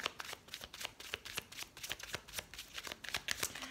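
Oracle cards are shuffled by hand for a reading, a steady run of quick papery riffles and soft slaps repeating close up for several seconds with no voices.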